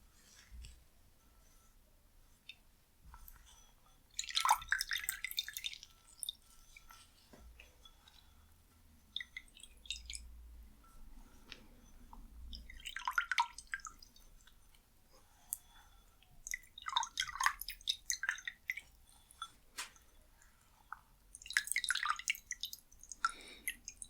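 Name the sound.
wetting a washcloth in water, dripping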